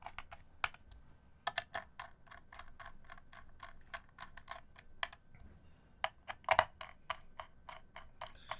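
Steady typing on a Honeyboard HB60 mechanical keyboard fitted with tactile gray switches, crisp close clicks coming in quick irregular bursts with a few louder keystrikes, no voices.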